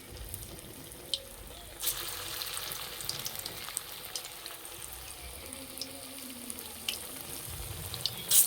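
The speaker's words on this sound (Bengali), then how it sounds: "কোপ্তাগুলো ভাজার জন্য কড়াই দেবো সাদা তেল।" Soybean koftas fry in white oil in a wok, giving a steady, even sizzle with scattered small pops and clicks throughout.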